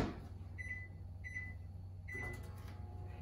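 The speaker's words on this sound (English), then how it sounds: "Now we need to microwave this for about 30 seconds so it can start cooking the biscuit." A microwave oven hums steadily while heating a buttermilk refrigerated biscuit in a mug, with a few short tonal beeps or chimes over the quiet, even drone.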